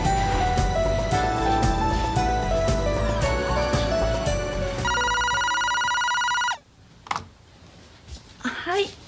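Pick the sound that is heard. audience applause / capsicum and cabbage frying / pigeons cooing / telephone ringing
telephone ringing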